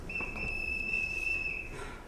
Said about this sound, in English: But I can't bear to be whistled for.